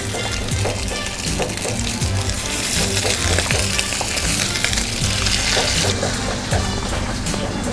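Food sizzles steadily in a hot pan of extra virgin olive oil, a dense continuous crackle and spatter with small pops throughout, close and fairly loud.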